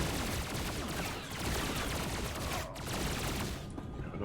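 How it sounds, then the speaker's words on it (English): Gunfire in the video game SWTOR during a Smuggler mission: a steady, dense barrage of blaster-like shots filling the whole stretch, easing off slightly near the end. "trick shot by shooting behind us"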